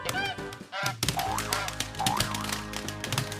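A toy goose from a farm animal toy set gives off cartoonish honks and quacks alongside clacking, typewriter-like effects, bright and close.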